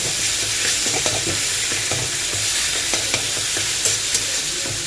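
Ginger-cumin paste and tomato frying in a pan, a steady close sizzle with intermittent scraping stirs throughout, no talking.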